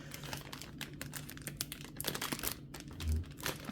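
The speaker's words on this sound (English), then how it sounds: "Sorry about the paper bag noise." A paper bag crinkles and rustles nonstop during an unboxing, a busy, close crackle of rough paper with a few louder crunches and a low thump near the end.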